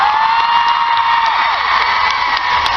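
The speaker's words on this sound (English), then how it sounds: "We're going to give a round of applause to our panellists." Loud, steady applause and cheering from a convention panel audience honouring the panellists, a dense wash of claps with whoops and high shouts rising throughout.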